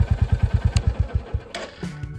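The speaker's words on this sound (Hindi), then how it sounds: "और अब यहां से हम कर देते हैं इसके इंजन को ऑफ" A Royal Enfield Bullet 350 motorcycle engine being switched off, its close, loud, even thumping idle beat slowing and dying away, followed by a short clatter and quiet.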